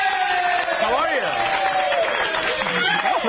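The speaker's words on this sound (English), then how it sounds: "No, keep clapping." Studio audience applause and clapping for a guest arriving on a TV talk show, a sustained wash of claps running underneath a voice talking over it.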